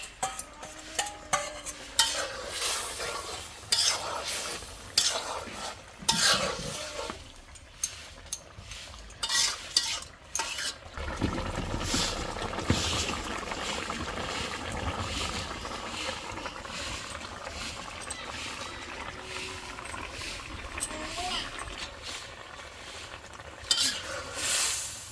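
A spoon stirs a simmering curry in a pot after cumin paste is added, scraping and clinking against the metal with a soft sizzle underneath, irregular strokes and a busier stretch in the second half.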